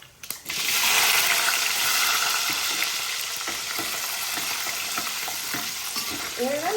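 Fennel seeds and garlic hit hot oil in a pan and sizzle loudly and steadily while being stirred, with scraping stir sounds under the frying for several seconds.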